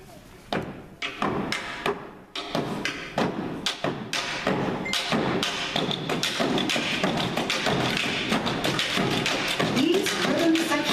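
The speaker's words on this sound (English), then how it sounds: "These rhythm sections were appropriately named tambour bamboo, which in French translates to bamboo drum." Bamboo tambour drums struck by hand in a rhythm section, a dense run of sharp, hollow thuds and taps in a quick, driving pattern, close and loud, growing busier and steadier as it goes.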